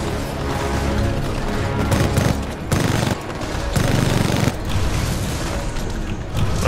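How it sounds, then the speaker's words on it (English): Enemy gunfire in the Titanfall 2 video game, repeated booming shots and rapid bursts cracking over a loud, busy combat background with no pauses. "Who is shooting at me?"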